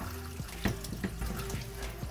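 Water spraying from a faucet-fed hose while cleaning a Hanabishi HAC-500 air cooler, a steady hissing rush with intermittent splashes and thuds against plastic, close and continuous throughout.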